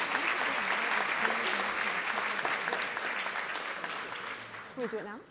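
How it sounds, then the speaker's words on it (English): Sustained crowd applause for grant recipients at a school rally, thick and even before thinning toward the end, as voices rise over it near the close. "Big round of applause for our grant recipients"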